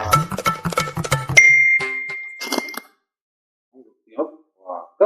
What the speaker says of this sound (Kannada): Company message.